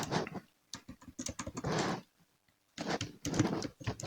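Bursts of rapid keystrokes on a computer keyboard as an activity name is entered in Primavera P6, clustered in quick runs with a short pause in the middle, close and clear with no talk.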